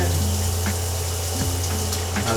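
Shower water runs in a steady, continuous rush throughout, an even hiss with a low hum beneath it and no voices.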